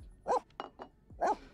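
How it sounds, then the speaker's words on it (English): A video game dog barks twice, with a couple of softer yips between the barks, fairly close and clear. "Why are you barking at me?"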